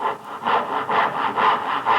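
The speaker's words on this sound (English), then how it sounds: "Once the saw is started, then I begin to level the saw" Steady back-and-forth strokes of a hand saw biting through wood for a cross halving joint, about four rasping passes in two seconds, close and fairly loud.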